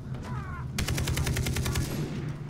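A rapid burst of automatic gunfire in the video game Far Cry 3, about a dozen evenly spaced loud shots in quick succession over constant background noise, preceded by a brief bird-like call.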